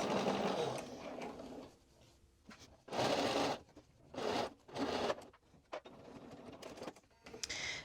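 A sewing machine stitches the top edge of a pants pocket at a 3/8 inch seam allowance, running in several loud bursts separated by short pauses, with no talking.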